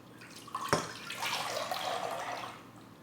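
Milo leche flan mixture pours into a pot with a sharp splash at the start, then a steady liquid trickle and gurgle lasting a couple of seconds before tapering off.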